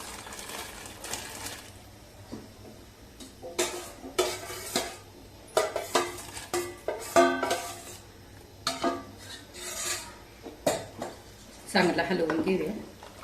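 Sabudana papad batter being stirred in a pot in a home kitchen: irregular scraping and clinking of a spoon against the metal pot, close and intermittent, with someone speaking between strokes.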